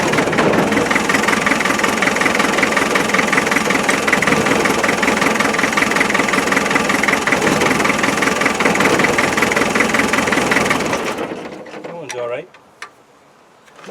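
An ex-military 1991 Land Rover 90 with a naturally aspirated 2.5 diesel runs close and loud at a steady, knocking idle, then cuts out abruptly near the end, leaving only faint rattles and clunks.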